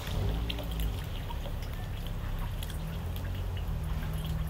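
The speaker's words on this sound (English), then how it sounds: "Then I'm gonna add some more water just to add a little bit of weight to the top." Water is poured onto acorn flour sitting in a filter, a continuous close trickling and splashing with low gurgles that runs steadily throughout, with no talk.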